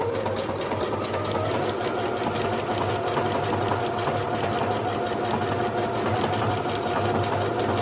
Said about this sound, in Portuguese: Eu apertando o botão aqui de Start Stop, ela vai começar a costurar.